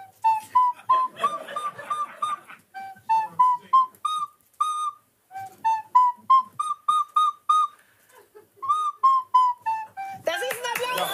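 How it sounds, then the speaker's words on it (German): A flute played with the nose gives short, breathy, whistle-like tones in quick repeated phrases of rising and falling pitch, with brief pauses between runs and a noisy burst at the end. "kann ich jetzt mit der Nase spielen"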